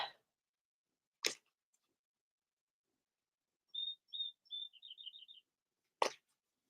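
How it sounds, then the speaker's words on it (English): A small bird gives a quick series of high, bright chirps, faint and isolated, with a few sharp clicks before and after. "they're like the tiniest little brown birds and they make the most noise ever"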